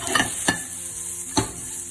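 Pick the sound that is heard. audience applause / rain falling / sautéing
sautéing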